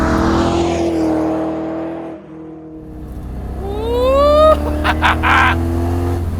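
A powerful V8 car engine revs hard, its pitch climbing steadily through several gears, loud and close, then a sharp gearshift burst near the end.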